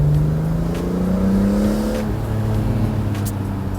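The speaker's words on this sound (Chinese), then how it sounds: "这车是宝马 M 最后的直6的自然吸气发动机，6个节气门" A BMW E46 M3 drives along, its 3.2-litre naturally aspirated straight-six with six individual throttle bodies humming as a steady, loud engine drone with smooth, slightly shifting pitch.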